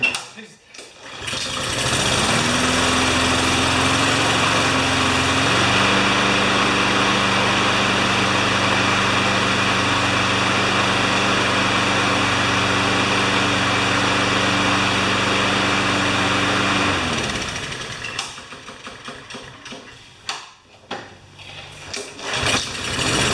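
Honda HRR216 lawn mower engine starting and running steadily for about fifteen seconds with a loud even drone and a pitch shift partway, then cutting off, followed by clunks and handling noises.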